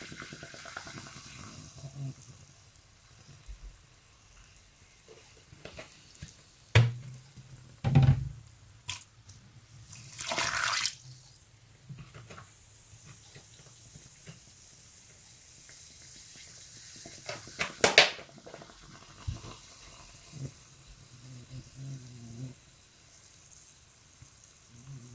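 Faint, continuous sizzling and bubbling from drain cleaner working in a clogged drain, broken by a few louder splashing and clattering bursts.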